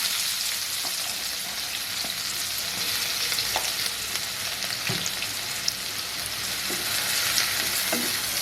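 Chopped onions fry in about five tablespoons of oil in a pan for fish kofta gravy, giving a steady, dense close sizzle with occasional soft stirring knocks and no voices.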